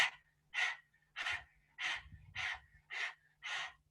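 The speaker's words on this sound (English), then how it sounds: "I want you to squat low and use the breath of fire." Breath of fire yoga breathing done in a low squat, seven sharp, rhythmic nasal exhalations in quick succession, close and clear with short quiet gaps between each forceful puff.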